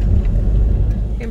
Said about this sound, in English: we're just driving our car.